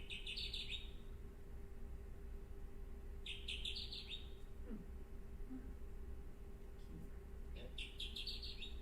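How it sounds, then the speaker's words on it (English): A Kirtland's warbler sings three bright, exuberant bursts of rapid notes spaced a few seconds apart, fairly faint against a steady low background hum. "it's one of the more exuberant of the warbler songs"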